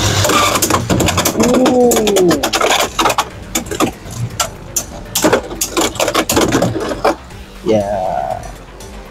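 Beyblade X spinning tops, a Phoenix Wing attack bey against a defense bey, launched after a countdown and clashing in a stadium, with sharp clicking impacts and whirring, under excited talk and exclamations.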